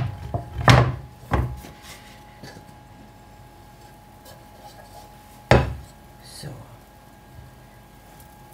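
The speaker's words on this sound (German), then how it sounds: "Dazu stülpe ich ein Brett auf meinen Topf. Vorsichtig umdrehen." A wooden board is set onto a cooking pot and a loaf of bread is flipped over, making a few sharp hollow wooden thunks spaced across the moment, with a brief spoken word.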